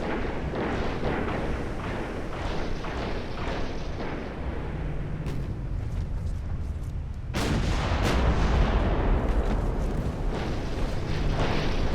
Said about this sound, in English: That was a main gun firing.